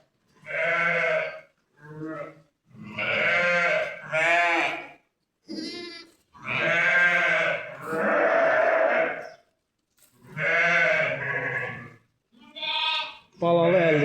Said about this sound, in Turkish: koyunlar bulardı